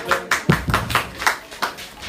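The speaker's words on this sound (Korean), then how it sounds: "박수 한번 쳐주세요." A church congregation gives a short burst of scattered hand claps, about ten uneven claps in two seconds, fairly close and fading quickly.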